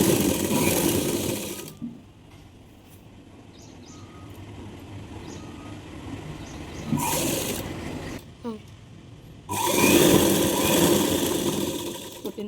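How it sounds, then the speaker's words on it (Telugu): A sewing machine stitches a baby umbrella-cut dress in three loud, close bursts of rapid whirring, separated by quieter pauses with faint handling noise. "కుట్టిన తర్వాత మళ్ళీ ఇంకో స్టిచ్చింగ్ వేస్తున్నాను, రెండో కుట్టు"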